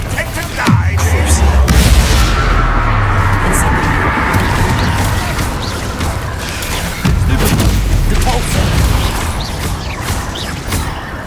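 Loud Incendio fire spell blasts in Hogwarts Legacy, a deep boom followed by a roaring, crackling burst and a second blast later, with voices speaking over the combat.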